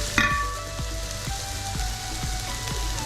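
Masala for chicken roast is poured into a hot pan and hisses sharply at first, then keeps up a steady sizzle and crackle, with a faint rhythmic scraping as it is stirred, close and alone.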